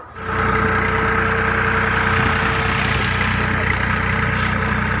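A tractor engine idles steadily and close by on a farm at sowing time, a constant low rumble with a pulsing mechanical drone that continues without a break.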